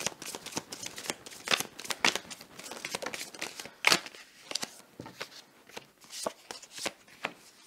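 Tarot cards shuffled and dealt out for a cross spread, a steady run of crisp riffling and slapping card sounds close up, with irregular bursts and a few sharper snaps, no talking.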